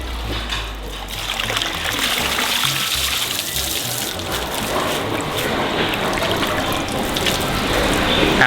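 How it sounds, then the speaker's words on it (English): Cold water poured over freshly cooked noodles at a Thai street food stall in Krabi, a steady broad rushing splash running throughout with low background rumble. "he cools it down with some cold water"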